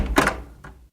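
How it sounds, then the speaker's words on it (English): A house front door opens with a short wooden thunk and a rattle of the latch, then a softer knock as it swings, close by and brief. "Pip opened the door."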